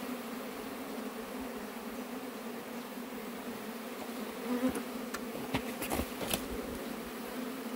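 A honeybee swarm being rescued and captured from a wooden stump close to a house hums in a steady, dense drone, with a few louder swells and bursts of buzzing near the end.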